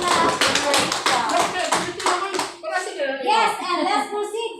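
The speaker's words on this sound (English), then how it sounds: "A big clap to everybody." Children in a classroom clap together in a quick, steady burst of claps that fades as their excited young voices take over.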